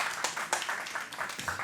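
An audience at a local investment awards ceremony claps for a presenter, with a short burst of fairly faint, steady applause in a room.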